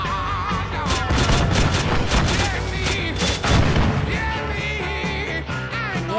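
Dense gunfire rattles from many directions in Arma 3, with overlapping bursts and single shots filling the whole stretch at close to mid distance. A voice is faintly mixed in.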